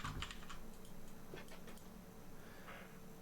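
Soft, rapid keystrokes on a computer keyboard, a faint irregular patter of clicks near the microphone during a livestream of PT, with no speech.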